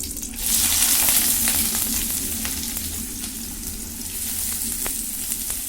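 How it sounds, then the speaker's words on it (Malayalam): Onions hit a little hot coconut oil for Malappuram-style thoompichoru, a loud close sizzle that surges at first and then settles into a steady crackling fry with faint stirring ticks. "നമുക്ക് ഈ ഉള്ളികൾ ഇതിലേക്ക് ഇട്ട് കൊടുക്കാം കേട്ടോ"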